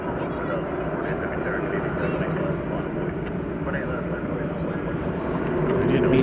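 American Airlines jet roaring down runway 18 left at night at DFW Airport, a dense steady engine rumble that swells toward the end, with voices speaking over it.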